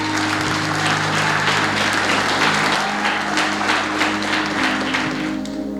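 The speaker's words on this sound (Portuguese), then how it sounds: "Aplauda Ele." Sustained congregational applause fills a church, dense, loud and steady from start to finish, with a faint tonal hum running underneath.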